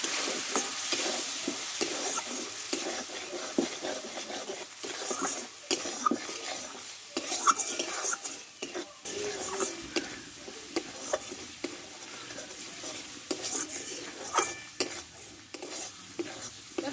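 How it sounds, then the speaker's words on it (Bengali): Spice paste with tomato paste frying in a pan for a vegetarian potato and pointed gourd curry, wet sizzling under repeated spatula scrapes and clinks against the pan, close and uneven. "এখানে একটা টমেটো পেস্ট করে নিয়েছিলাম এটা দিয়ে দেবো এই মশলাটা ভালোভাবে কষে নেবো"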